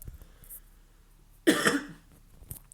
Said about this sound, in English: pardon me, I need to cough